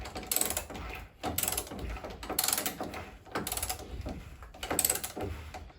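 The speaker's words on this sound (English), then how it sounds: "going to release the jack so that I can tighten the chassis points again" A jack is released and chassis bolts are cranked tight with a ratchet while rock sliders are fitted to a Jeep, giving about five close, loud bursts of rapid metallic clicking separated by brief pauses.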